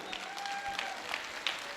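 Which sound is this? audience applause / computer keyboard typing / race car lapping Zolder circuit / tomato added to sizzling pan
audience applause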